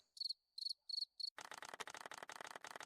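Cricket in Stardew Valley chirping in four short, evenly spaced bursts, followed by a denser, rapid train of clicking chirps, clear and close with no voices.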